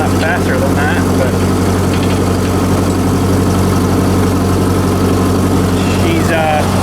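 Old tractor engine running with the PTO not live, a steady low rumbling idle with constant vibration, loud and close, while someone talks over it.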